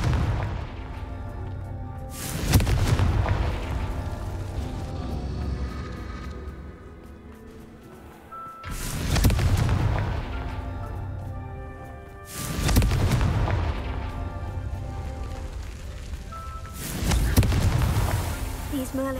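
Confringo fire spell cast in Hogwarts Legacy on PS5, bursting as repeated loud booming explosions, four heavy blasts spaced a few seconds apart over a rumbling game backdrop.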